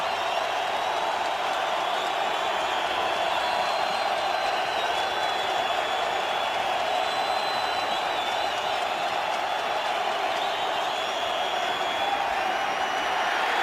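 Stadium crowd at an NFL game between the St. Louis Rams and Arizona Cardinals, a steady, dense roar of cheering and noise that holds at full volume throughout with no pauses.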